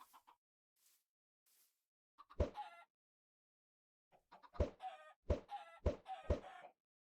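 Chickens cluck repeatedly inside a video game, sounding as a series of sharp, close bursts in two groups with quiet gaps between them, and nobody speaks over them.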